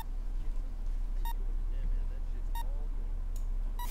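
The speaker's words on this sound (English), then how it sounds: "is that the UXO which is beeping?" Unexploded ordnance in ARMA 3 gives a short electronic beep about every 1.3 seconds, four in all, each faint and clipped, set against a steady low rumble and soft, indistinct background chatter.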